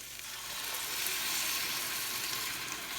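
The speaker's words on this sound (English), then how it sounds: "Now I'm going to deglaze the pan with some red wine." Hot pan hissing and sizzling loudly as red wine is poured in to deglaze it over cooked tomato paste for a pot roast, a dense bubbling hiss that swells and holds steady.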